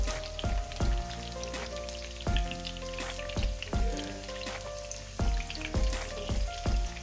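Tomatoes cook in hot oil for chicken charsi karahi on low heat, giving a faint, steady sizzle and crackle under regularly spaced tonal background music.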